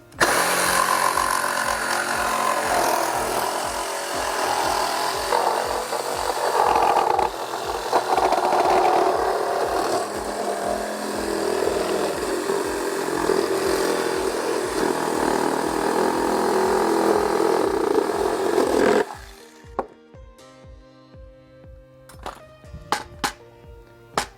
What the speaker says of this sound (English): I'm going to use my Sawzall to cut through the plastic